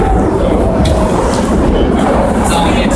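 A London Underground tube train runs with a loud, constant rumble and rattle heard from inside the carriage, with brief higher squeals and hisses rising over the din.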